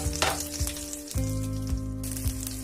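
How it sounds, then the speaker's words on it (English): Small onions, cumin seeds and curry leaves sauté in a pan for radish sambar, a close, bright sizzle broken by several scraping stirs of a spoon at irregular intervals, with no talking. "Saute well."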